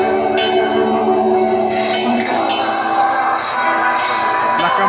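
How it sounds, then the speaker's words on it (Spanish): Church bells ring repeatedly in a steady rhythm, bright strikes sounding over a dense, loud wash of crowd noise as a religious procession brings a statue of Saint Anthony of Padua to a community chapel. "Las campanas anuncian la llegada de San Antonio."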